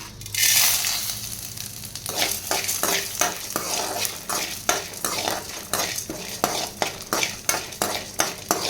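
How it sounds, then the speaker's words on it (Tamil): Whole black pepper, cumin, urad dal, chana dal, coriander seeds and dried red chillies roast in hot sesame oil for a brinjal curry, a steady close sizzle broken by repeated scraping stirs of a spatula against the pan, with no talk. "இதில் நம்மளோட மிளகு, சீரகம், உளுத்தம்பருப்பு, கடலைப்பருப்பு, தனியா, வரமிளகாய் எல்லாத்தையும் சேர்த்துடலாம்."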